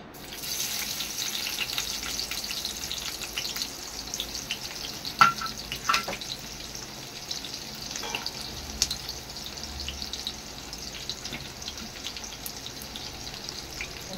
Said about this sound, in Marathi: तर पहिले लसूण टाकूया.